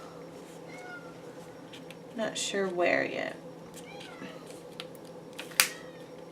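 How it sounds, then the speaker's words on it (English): A pet cat meows several times behind a person speaking close by indoors, the cries brief and mid-loud, rising over quiet room tone while the person talks. "I don't know if you can hear my cat, but she's meowing behind me."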